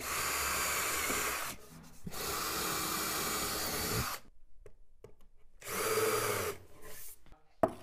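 Power drill boring and countersinking holes in wooden boards for a shelf, several loud close bursts of whirring separated by short pauses, the last one ending in a sharp knock.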